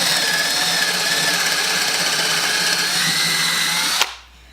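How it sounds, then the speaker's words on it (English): A power drill with a 3/8 bit bores a hole for a plug while restoring an old tool box, whining loudly and evenly for about four seconds before stopping abruptly. "any kind of 3/8 drill bit, whether it's a auger bit or a twist drill, any of those will work."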